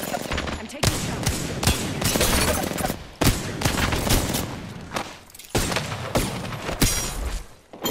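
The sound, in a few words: gunfire from a video game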